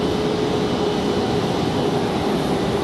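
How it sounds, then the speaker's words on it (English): A Boeing 737-700 airliner at Raleigh-Durham International Airport gives off a steady, loud engine roar with a faint whine running through it, unbroken for the whole stretch. "Looks like we're about to have that 737-700."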